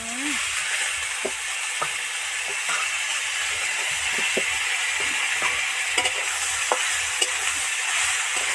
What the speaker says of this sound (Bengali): টমেটো কুচি দিয়ে আরও দু মিনিট ভালো করে নাড়তে থাকবো